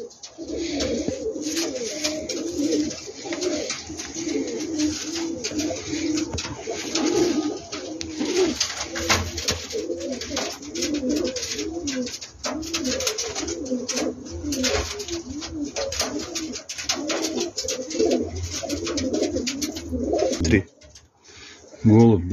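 Uzbek pigeons coo steadily in low, throaty rolling phrases that overlap throughout, some birds close and loud, with a brief pause near the end before the cooing resumes.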